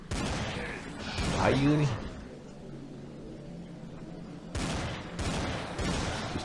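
Pistol shots fired in the Dead Target zombie shooter game come as sharp bursts, one near the start and a quick cluster near the end, with a person talking in between.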